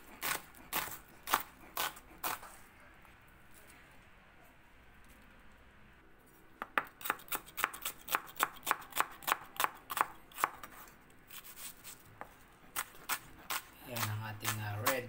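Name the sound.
chopping red onion with a knife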